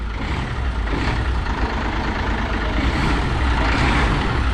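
A heavy Hino J08E diesel truck engine idles steadily and loudly nearby, a continuous low rumble with no one talking.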